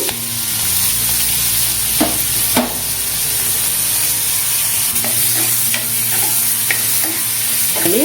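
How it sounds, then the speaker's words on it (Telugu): Dried shrimp frying in leftover oil make a loud, dense, continuous sizzle close by, with occasional scraping stirs of a spoon against the pan and no talking. "మిగతా ఆయిల్ ఉంది కదా, ఈ ఆయిల్లో ఈ ఎండు రొయ్యలు వేసేసుకుందాము."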